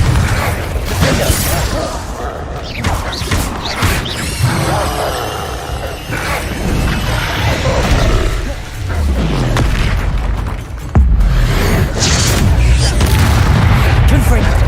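Confringo and Incendio spells fired in Hogwarts Legacy battle, a dense run of heavy booms and blasts with rumbling low impacts, loud and busy throughout while a voice names each spell.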